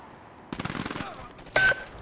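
GDI infantry rifle fire rattles against a garrisoned building in Command & Conquer 3, a rapid burst of shots followed by a louder, brighter impact.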